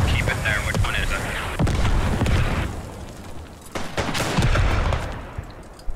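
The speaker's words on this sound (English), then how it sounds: "On my mark, there's the field gun, enemy field gun." An enemy field gun fires amid a World War I battle in the Beyond The Wire game at Poelcappelle, loud booms and rolling gunfire filling a dense, continuous din, with voices talking over it.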